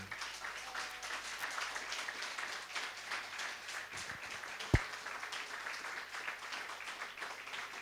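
A church congregation applauds together during a worship service, steady, dense clapping from a crowd heard at moderate distance with no voice over it.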